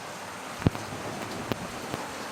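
Morning rain falls as a steady, even hiss, with a few heavier drops thudding close by at irregular moments.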